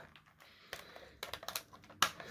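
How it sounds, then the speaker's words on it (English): Scissors snipping through twist ties on toy packaging, a few sharp clicks and cuts close up, quiet and alone. "twist ties be damned because I have scissors"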